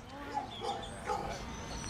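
A pit bull or Yorkie terrier barks in short, sharp yips and woofs at a few moments over a steady busy background, with voice-like sound also present.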